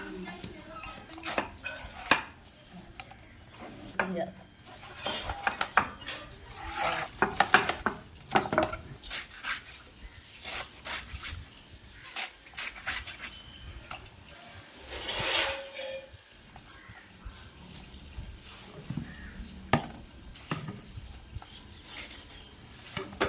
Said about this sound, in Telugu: చిన్న చిన్న ముక్కలుగా కోస్తున్నారు అతియా